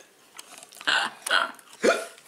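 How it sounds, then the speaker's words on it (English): Three sharp hiccups spaced evenly over about two seconds, each a short, fairly loud burst, from someone who has just eaten hot sauce during a hot sauce challenge. "Oh, there goes the hiccups."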